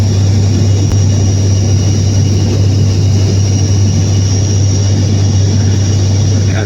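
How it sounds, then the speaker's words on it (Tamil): An IndiGo airliner descends and banks to the right to land, heard from inside as a steady, loud, continuous engine roar with a strong low hum that holds evenly throughout, with no talking. "அப்படியே ரைட்டில் சாய்க்கிறாங்க, ஃப்ளைட்டை கீழே இறக்குறாங்க."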